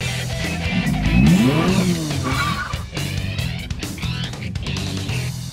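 A 2014 Porsche Macan S diesel, one of the first examples, revs up with a rising engine sweep around the one-second mark, then settles into a steady low rumble close by, without talk.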